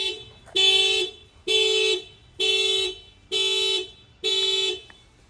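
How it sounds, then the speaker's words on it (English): A 2023 Subaru Crosstrek car alarm, set off by banging on the window, sounds in five evenly spaced, loud electronic bursts, each lasting about half a second, with short silent gaps between them. "I'm gonna go ahead and bang on the window. You'll see that the alarm is gonna trigger."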